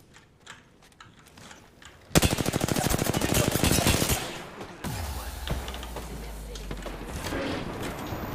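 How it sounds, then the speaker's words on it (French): Rapid automatic gunfire in the video game Apex Legends rattles in a dense burst for about two seconds, followed by further game effects, a low rumble and faint keyboard clicks. "J'essuie des tirs."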